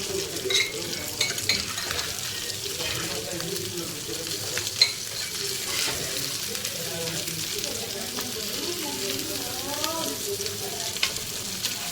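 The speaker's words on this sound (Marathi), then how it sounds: "आता आपल्या मच्छी फ्राय झालेली आहे." Pieces of rawas (Indian salmon) fry in a pan with a continuous close sizzle, with occasional utensil clinks and a voice talking faintly underneath.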